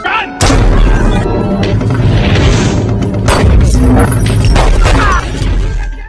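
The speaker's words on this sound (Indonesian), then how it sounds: "Chrissy pun langsung melepaskan tembakan dan memperingatkan Pita untuk melarikan diri." Loud, sharp gunshots and booming impacts fill a film action scene, coming as a series of close, heavy bangs with crashing debris over several seconds.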